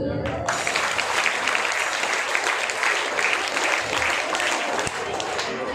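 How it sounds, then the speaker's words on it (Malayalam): An audience at an Onam gathering bursts into sustained clapping, a dense and loud wash of many hands that starts abruptly and holds steady for several seconds, with some voices mixed in. "ആരാ കൈയടിക്കാൻ പറഞ്ഞേ?"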